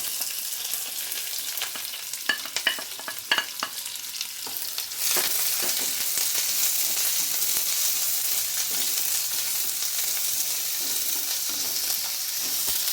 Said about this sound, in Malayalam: ഇനി നമുക്ക് ഇതിൻ്റെ അകത്തോട്ട് കട്ട് ചെയ്ത് വെച്ച ചെറിയ ഉള്ളിയും കറിവേപ്പിലയും ഇട്ട് കൊടുക്കാം